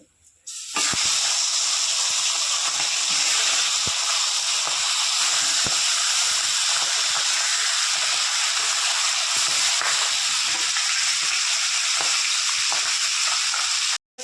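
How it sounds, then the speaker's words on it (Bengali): Rohu fish pieces frying in hot oil in a pan, giving a loud, steady sizzle and crackle that runs unbroken for the whole stretch after a brief quiet start, with no talking. "ওই তেলেই বাদবাকি মাছগুলো আমি ভেজে নেব।"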